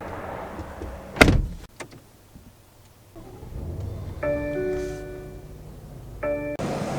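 Car door on a 2022 BMW M850i xDrive Gran Coupe swinging open and shutting, with a sharp latch clunk near the start, faint interior rustle, and a steady electronic door-open chime repeating later, heard close up without talk.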